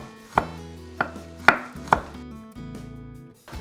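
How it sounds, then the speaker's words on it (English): A knife finely slices garlic cloves on a board for sous vide beef stroganoff, four crisp, spaced cuts ringing out up close, followed by softer taps and scraping with no talk. "What we want for the garlic is just finely sliced."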